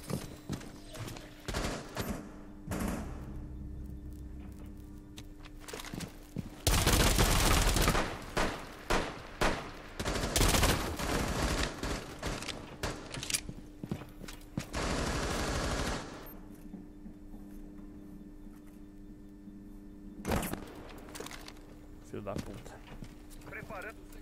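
Gunfire in the tactical shooter Rainbow Six Siege, with loud bursts of rapid shots in several clusters mixed with other game sounds, while a player talks excitedly over much of it.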